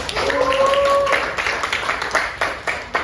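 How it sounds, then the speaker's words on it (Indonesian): Participants in an online teacher coaching session applaud together, a busy patter of claps running under a sustained voice at the start and thinning toward the end. "Kita apresiasi tepuk tangan untuk kita semua."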